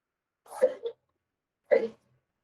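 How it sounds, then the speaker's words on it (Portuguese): Two short, raspy coughs about a second apart, close by, with silence around them. "Tirando a tosse."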